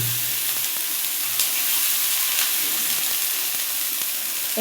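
Frying onions and chilies in a pan hiss with a steady, loud sizzle after a little water is poured in, the sound holding even and close throughout with a low hum early on.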